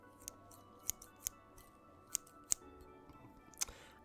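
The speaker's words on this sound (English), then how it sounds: "the next thing I wanted to use is a pair of scissors" Sharp, crisp snips from a pair of scissors in a quiet ASMR setting, about eight separate cuts spaced irregularly over four seconds, close and clear against a soft background hiss.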